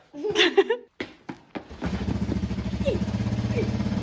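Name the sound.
1983 Suzuki LT 185 ATV engine running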